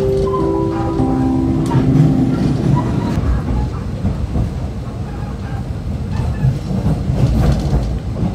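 An Argo Cheribon economy train rolls into Cirebon Kejaksaan station, heard from aboard as a loud rumbling, clattering ride with brief squealing wheel tones early on and constant car vibration.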